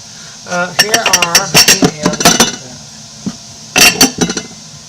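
Clear glass bowls and dishes being handled in a home kitchen while preparing a salad for a dinner of pork chops and fried zucchini, with bright close clinks and knocks in two clusters and brief quiet between them.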